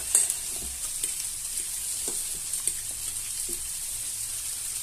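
Onions being stirred in a pan for an onion, goat cheese and walnut tart, a soft steady sizzle with scattered light scraping taps from the spoon, close and alone with no voices.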